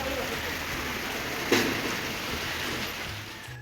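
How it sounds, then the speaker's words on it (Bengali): Heavy rain falls on a rural village homestead during the monsoon, a dense steady hiss with one brief louder splash midway. "প্রচুর বৃষ্টি হচ্ছে।"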